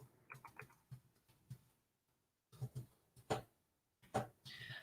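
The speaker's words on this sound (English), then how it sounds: "You hear my keyboard moving." Quiet, irregular clicks and taps of keys on a computer keyboard come in short bursts with brief pauses between them.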